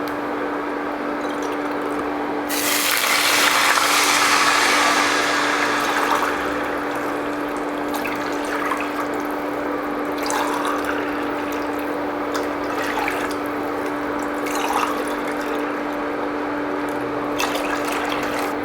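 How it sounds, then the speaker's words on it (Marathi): Water pours and splashes into a pot of rice being prepared for chicken biryani, a loud gushing pour for several seconds followed by quieter trickling, drips and small splashes. "याच्यामध्ये आपल्याला चार ग्लास पाणी घालून घ्यायचं आहे"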